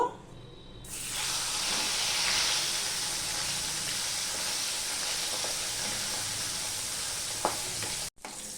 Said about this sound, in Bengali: এবার মাছের মাথাগুলো আমি ভেজে নেব